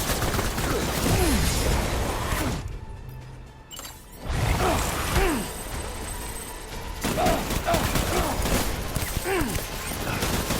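Gunfire from the video game Death Stranding, with dense rapid bursts and impacts layered over a loud continuous game soundscape, briefly dropping to near quiet midway before resuming.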